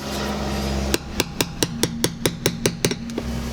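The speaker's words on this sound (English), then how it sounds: "I'm gonna punch out a little spot to drill a hole" A rapid series of about a dozen sharp metallic taps, evenly spaced, as a punch strikes thin sheet metal close by on a Toyota Tacoma.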